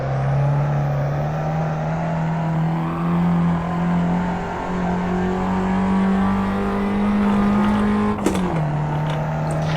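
Alfa Romeo Mito QV engine in the Assetto Corsa racing game, a loud steady drone held near one pitch that rises slowly, then drops sharply as the throttle lifts near the end.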